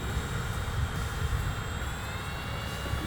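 XK A1200 beginner RC airplane with flight stabilization flying overhead at full throttle, its small motor giving a steady, whining buzz over a constant rushing background with no talk.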